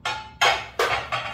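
Several sharp clinks of porcelain bar-snack plates being set down or shifted, about four distinct knocks with ringing tails, close by and with no talk.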